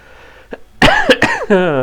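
A man coughs hard several times in quick succession, close and loud, then ends with a drawn-out voiced throat sound.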